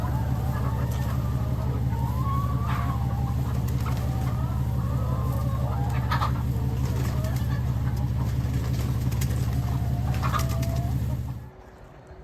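Chickens being unloaded into a greenhouse, steady soft clucking and cooing over a constant low hum, with occasional louder calls near and farther off, until the sound cuts out near the end.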